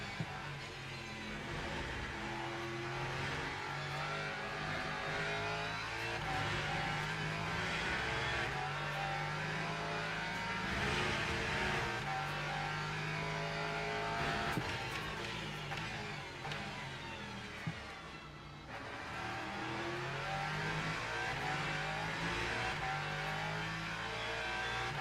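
Race car engines in the Le Mans Ultimate video game during a six-hour endurance event at COTA, a continuous loud engine drone rising and falling through gear changes, with other cars nearby.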